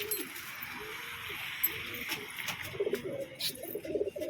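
Female pigeons coo in soft, repeated throaty calls over a steady background hiss, with a few sharper sounds mixed in.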